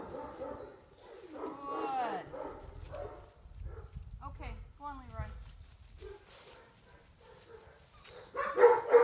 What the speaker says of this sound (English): He is dog. Yes, dog.